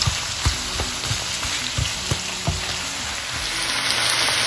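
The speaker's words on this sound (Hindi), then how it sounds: "मैंने थोड़ा सा ऑयल और ऐड किया है ताकि मैं ये अपने प्याज फ्राई कर लूँ।" Onions frying in oil for masala bhindi, a steady bright sizzle with soft periodic taps and scrapes of stirring, close and moderately loud with no talking.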